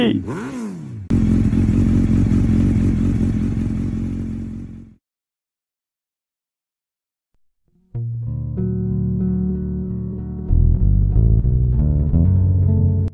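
A motorcycle rides toward a petrol pump, with a loud, close engine drone that cuts out, falls silent for a few seconds, then returns with tonal engine noise and clatter.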